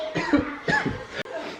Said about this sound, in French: Tu sens quand la toux elle monte comme ça